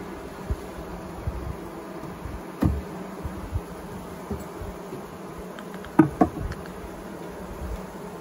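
Honey bees in a long hive during an inspection, with a steady low buzzing hum throughout and a few brief sharper sounds near the start and toward the end, no speech.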